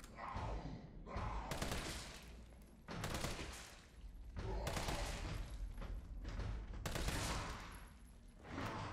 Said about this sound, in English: Okay, I shot her in time.